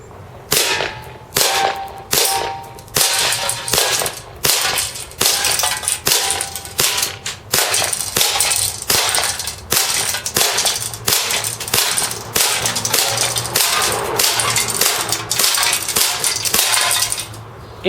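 A KWA CZ75 gas-powered airsoft pistol fires a long string of loud, sharp shots at a can about ten feet away, with irregular pops and faint impact clinks filling the whole stretch without talk.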